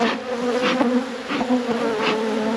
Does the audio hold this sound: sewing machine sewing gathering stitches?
no